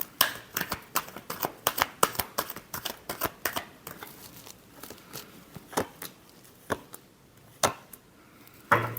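Tarot cards being shuffled by hand: a quick run of crisp, papery riffles and slaps up close, thinning to scattered single snaps toward the end.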